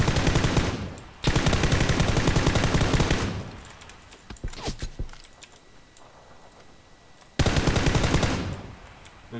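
Long bursts of rapid automatic rifle fire in PUBG rattle loudly in two extended volleys, separated by a quieter stretch of scattered single shots and clicks, with no talking.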